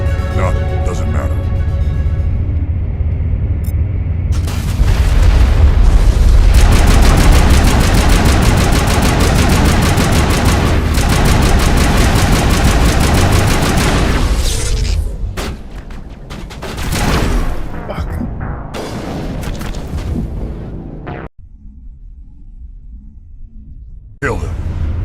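Sustained SMG fire in the video game Mass Effect, loud rapid automatic bursts that rattle on for several seconds before giving way to scattered booms and rumbling impacts, then a quieter stretch.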